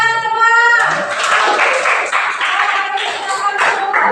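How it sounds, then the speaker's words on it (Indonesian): A group of students claps together in a classroom during a training session after a group presentation, a burst of brisk, uneven hand claps that starts abruptly after a brief tonal voice and continues steadily, close and fairly loud. "Tepuk tangan semua."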